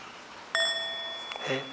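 A meditation bell is struck for a soft half sound, giving one clear metallic ding that rings and lingers, followed by a faint second tap against quiet room tone.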